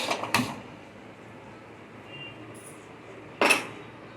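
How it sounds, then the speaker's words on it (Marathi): A metal kadhai is set onto a gas stove, making a clank at the start and another at the end, with a quiet hum of the burner in between. "कढई गरम करायला ठेवली आपण"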